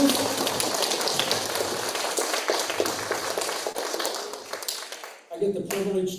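Audience applause for speakers at a TEDxSCA Youth event, a dense, steady wash of many hands clapping that fades and breaks off near the end, with a brief voice after.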